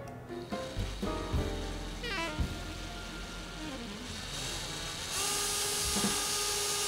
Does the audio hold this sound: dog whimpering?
no